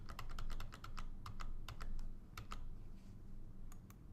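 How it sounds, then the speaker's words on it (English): Keys clack on a computer keyboard while a password is entered for a payroll submission, about two dozen quick close taps in uneven bursts, then a few slower keystrokes near the end. "Give the password to the gateway."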